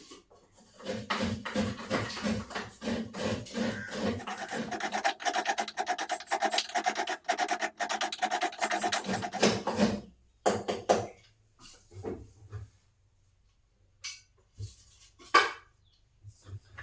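Coconut being grated by hand makes fast, rhythmic rasping strokes that run continuously for about ten seconds, then break into scattered scrapes and knocks. The grating is close and moderately loud, with no talking.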